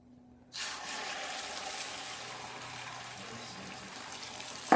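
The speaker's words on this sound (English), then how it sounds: "The pan is ready, so we're going to go ahead and pour in our egg." Beaten egg poured into a hot pan for an omelet, setting off a sudden, steady sizzle that holds evenly and fairly close with no talk over it.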